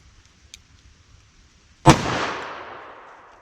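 A single sharp gunshot from a .357 Magnum revolver with a 4-inch barrel firing Hornady Handgun Hunter ammunition rings out loud and close, then decays over more than a second, after a short stretch of near silence.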